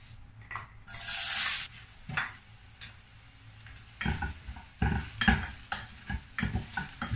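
Garlic frying in a pan with scraping stirs and a brief hissing burst of sizzle early on, followed by irregular close clatters of a utensil against the pan.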